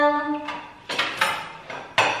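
Dishes and cutlery clatter at a home sink during washing, in a few separate sharp knocks and clinks that follow an earlier tonal sound, fairly close and with no talk over them.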